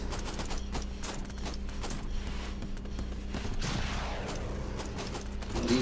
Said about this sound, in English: Set up the machine gun nest.